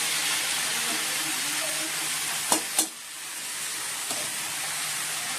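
Cabbage, added to fried potatoes and cooked spices, frying and being stirred in a pan: a constant loud close sizzle with two brief sharp scrapes of a spoon midway.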